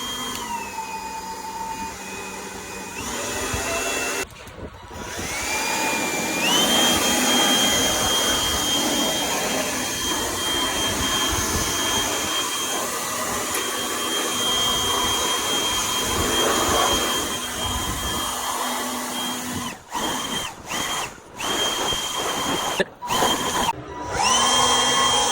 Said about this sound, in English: It's a spot blower.